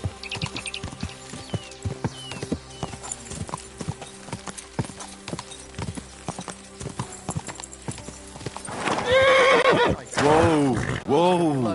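Horse in Kingdom Come Deliverance 2 clip-clops steadily at close range under faint game music and ambience, then gives two loud, wavering neighs near the end.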